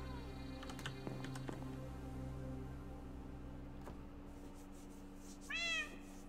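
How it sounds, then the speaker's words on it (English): A cat meows outside during a computer game session, one short rising-falling meow late on, heard faintly over computer keyboard typing and clicks and a steady low hum. "there's a cat outside, isn't there?"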